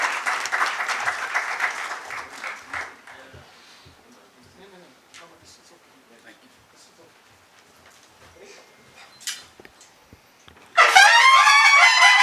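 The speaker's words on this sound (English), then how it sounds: "With a huge round of applause and with a wonderful traditional welcome" Audience applause at a seminar inaugural function in a hotel, clapping steady at first, fading into scattered claps, then a loud, dense burst of applause breaking out near the end.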